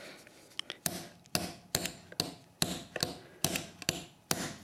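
Small metal tool repeatedly tapping a centre bolt during an adjustment, about ten sharp, evenly spaced knocks with short ringing decays, close and clear with no talking.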